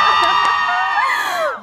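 A crowd of BTOB fans at a live fan event screams and cheers loudly at close range in one sustained, high-pitched roar that fades out near the end.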